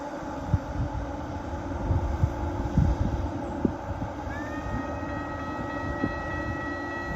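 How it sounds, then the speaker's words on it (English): An eastbound Norfolk Southern intermodal freight train rolls past at Hoover Road, a steady low rumble of wagons with clanks and knocks, near and loud, and a high tonal squeal rising partway through. "It looks like this train is a intermodal train."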